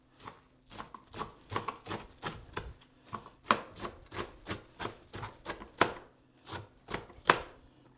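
A knife dices water leaf on a cutting board for afang soup, producing a steady series of crisp, close chops in an irregular rhythm, fairly quiet, with no talking.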